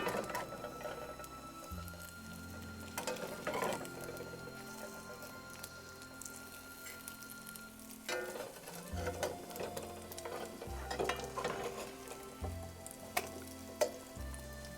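French toast fries in a pan and is pressed down with a spatula, producing a soft, steady sizzle with intermittent squishing and scraping taps close by, with no talking.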